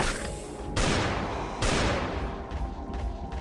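Gunfire in the mobile game Last Day on Earth: a loud sustained burst of shots, with two heavy blasts and a rattling volley fading toward the end, no talk.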